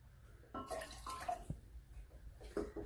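Hydrogen peroxide poured into water for treating root rot on a raspberry plant: a few short, quiet splashing pours with small gurgles, close and faint, with brief gaps between them.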